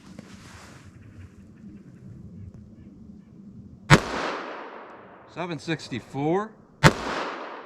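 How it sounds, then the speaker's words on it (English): Two sharp, loud .45 Auto pistol shots firing 230 grain full metal jacket rounds, spaced a few seconds apart outdoors, with a brief electronic chirping in between and a voice reading a number. "Now let's try our 45 auto."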